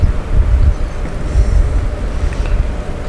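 Strong gusting wind in the Alps ahead of a storm buffets the microphone with a continuous loud low roar that surges and eases, and there is no talking.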